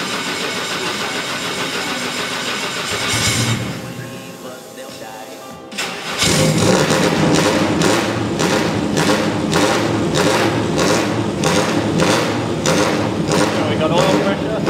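A race car engine cranks after the ignition is switched on, then catches and fires up. It settles into a loud, close, steadily pulsing run that fills the rest of the clip.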